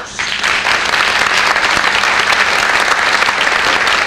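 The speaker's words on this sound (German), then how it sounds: "bitte um einen Applaus." Theater audience applause at the Tribüne theater in Berlin during a revue, loud, dense and continuous clapping that starts abruptly and holds steady throughout.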